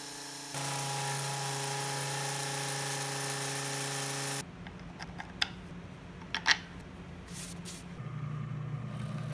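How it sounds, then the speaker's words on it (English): A drill countersinks and widens screw holes in a wooden jig body for a router circle jig. It gives a loud, steady whine for about four seconds, then stops, leaving quieter clatter and a few sharp clicks. "I countersink and widen the holes of the body so that the screws can pass through"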